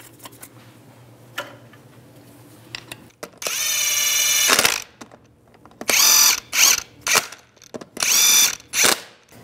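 Impact tool spinning lug nuts onto a Chevy Trailblazer wheel in a garage, one long whirring run followed by several short bursts, loud and close, separated by quiet gaps with faint clinks.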